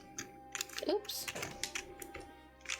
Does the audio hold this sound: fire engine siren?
no